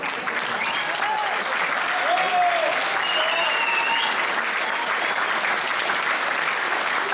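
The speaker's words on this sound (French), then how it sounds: "On peut applaudir Étienne, c'était son dernier concert à la présentation ce soir." Audience applause at a military band concert by the 9th BIMA of Poitiers, sustained thick clapping from a large crowd for about seven seconds, with faint voices audible beneath the clatter.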